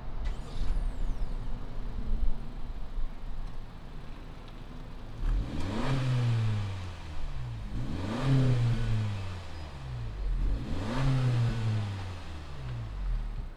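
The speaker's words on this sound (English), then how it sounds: "let's go ahead, fire up this inline four turbocharged engine and see what it sounds like" The inline-four turbocharged engine of a 2020 Honda Civic Sport hatchback idles, then revs three times in rising and falling sweeps at even intervals, heard close with no talk.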